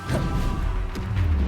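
An Expelliarmus spell cast in a Harry Potter video game lands as a short, loud whooshing crash with a thudding low impact, over in about a second and a half.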